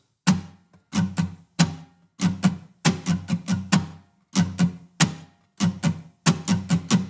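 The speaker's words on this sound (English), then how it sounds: "we're going to do a 16th note strumming pattern." Rhythmic acoustic guitar strumming in a steady sixteenth-note pattern, sharp repeated down and up strokes in groups with brief pauses, close and clear with no voices.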